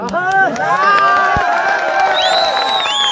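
A large crowd at a night election rally in Dashnan cheers and shouts loudly and continuously, dense voices and whoops filling the air with several shrill whistles rising through it.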